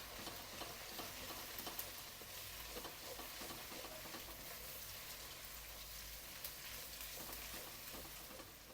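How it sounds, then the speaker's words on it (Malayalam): Ginger garlic paste sautés in a pan with a dense, continuous crackling sizzle and faint stirring, steady and close but fairly quiet throughout. "ജിഞ്ചർ ഗാർലിക് പേസ്റ്റ് ഇട്ട് കൊടുത്തേ."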